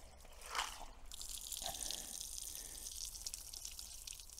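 Cup of water poured onto shingle in a French drain test with slits cut at the bottom, a brief splash followed by a soft, steady trickle and hiss as it drains away.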